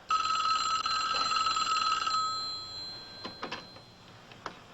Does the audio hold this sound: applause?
no